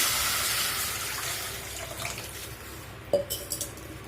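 Water pours steadily into a pan of softened onions for rava upma, the rushing sound tapering off, then a few clinks of metal cookware near the end.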